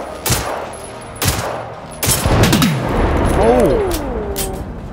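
Gunshots from the video game Generation Zero ring out as about three loud, sharp cracks close together. A voice gives a short exclamation, followed by whooshing, warbling effect sounds.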